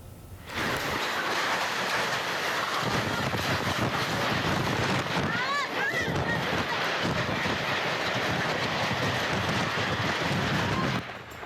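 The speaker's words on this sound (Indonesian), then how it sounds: "Angin kencang disertai hujan deras menyebabkan atap rumah warga terangkat dan sejumlah pohon tumbang." Strong whirlwind winds with heavy rain lash a village in Subang, West Java, lifting house roofs and toppling trees; a loud, steady broadband roar runs for about ten seconds with no voices.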